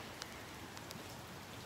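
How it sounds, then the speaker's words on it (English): Rain falls outdoors with a steady, soft patter and a few brighter drops landing close by, low and even throughout with no voices. "Now it's raining on me."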